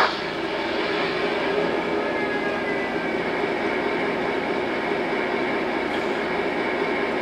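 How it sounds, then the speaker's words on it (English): A GP9 model locomotive's sound unit running after start-up gives a steady, loud diesel engine drone with a rumbling low end and a broad hiss, holding evenly throughout without talk. "after the locomotive is started up, the sounds have begun playing"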